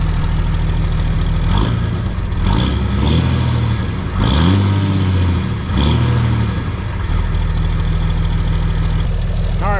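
A Dodge Ram pickup's Cummins 5.9 diesel with an MBRP performance exhaust idles with a deep rumble, then gets several short revs that swell and fall back. The engine is loud and close, with no talking.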